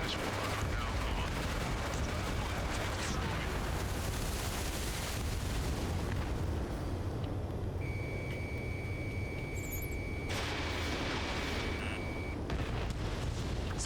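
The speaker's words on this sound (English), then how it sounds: "SAM site destroyed." A SAM site is blown up in Ace Combat 7 amid constant jet combat, a sustained roar of explosions and cannon fire with a steady electronic warning tone partway through, loud and dense with no pause.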